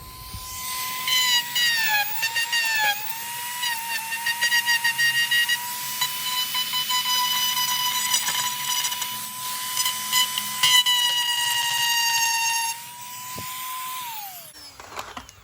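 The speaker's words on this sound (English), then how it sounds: "You use a Dremel, some sort of grinding bit" A Dremel rotary tool with a grinding bit smooths the seams of a Darth Vader helmet, producing a sustained high whine that dips and wavers as the bit presses into the material and then winds down.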